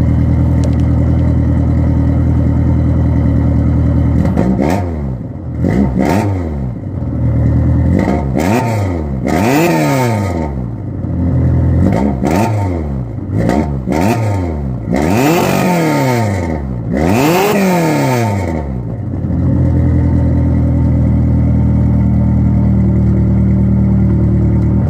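A 1998 Neon with a swapped 2.4 engine idles steadily, then gets revved in a series of sharp, loud throttle blips that rise and fall repeatedly before settling back to idle, close up with no talking.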